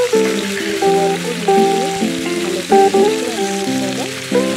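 Taro and potato pieces fry in a pan while being stirred, giving a close sizzle under repeated scraping and clattering strokes, with some tonal ringing from the pan and no talk.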